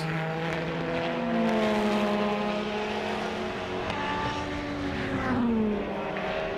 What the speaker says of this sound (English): Watch the cars flashing by there into the kink.